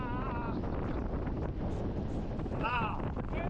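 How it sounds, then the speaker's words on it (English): Wind buffeting the microphone outdoors at old California gold mine workings, a constant heavy rumble and roar that fills the whole stretch, with faint voice-like tones breaking through briefly. "of course it's windy"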